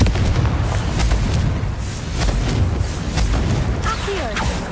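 Confringo blasting spell explosions in Hogwarts Legacy, a run of loud, deep booming bursts that follow one another in quick succession with rumbling low end throughout.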